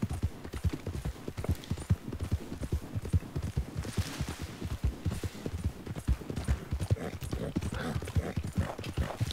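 Steady, rhythmic horse hooves clip-clop in the Red Dead Redemption video game, a continuous close trot that runs through the whole stretch with a faint brief whinny-like accent.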